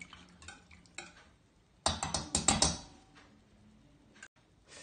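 A whisk or spoon beats a quiche lorraine filling in a bowl, with light scrapes at first, then a fast, loud burst of clattering strokes against the sides, ending in a few softer taps nearby.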